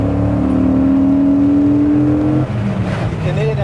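Dodge Viper GTS with an 8.0-litre V10 pulls hard from inside the cabin, a deep droning induction roar with a rising tone that drops as the revs fall, while occupants talk over it.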